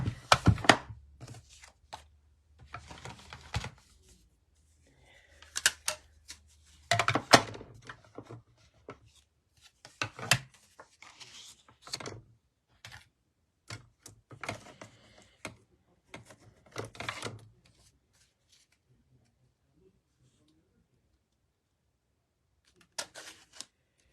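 Scissors snipping out a stamped paper card, a series of short crisp cuts and crinkles in irregular bursts, close and dry, separated by quiet pauses and ending with a final snip after a long gap.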